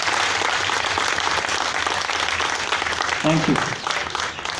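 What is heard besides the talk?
audience applause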